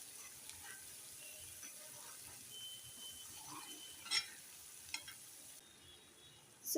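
Dry spices sautéed into a paste in a pan for an onion- and garlic-free offering dish give a faint, steady sizzle, with a few light clinks of a utensil against the pan and no talk.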